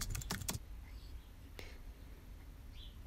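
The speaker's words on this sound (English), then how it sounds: "you can go to audio and SFX and choose keyboard typing" Keyboard typing sound effect from a video-editing app's sound library: a short burst of rapid key clicks at the start, then scattered single taps over a faint steady background.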